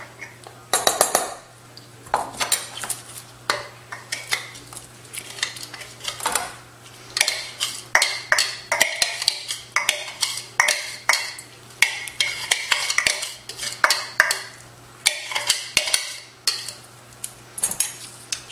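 Metal spoons scrape and clink against a bowl as chopped sausage meat is spooned in, a busy run of irregular taps and scrapes over a steady low hum, fairly close and moderately loud.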